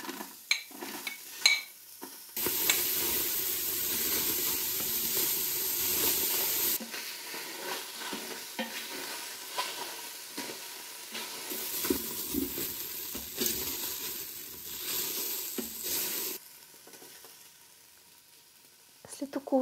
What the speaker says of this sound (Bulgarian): След като загрее, вече мога да прибавя лука